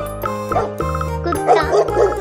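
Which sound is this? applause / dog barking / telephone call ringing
dog barking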